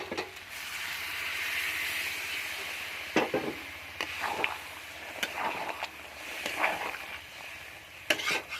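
Hot water poured into a pan of browned chicken curry in a home kitchen, a steady sizzling hiss broken by scattered stirring clatters and utensil knocks.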